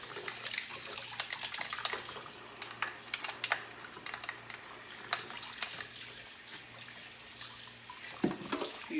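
Tap water running into a sink while a Nama juicer is cleaned, a steady faint stream with clicky scraping and scrubbing sounds of parts being handled close by, no talking.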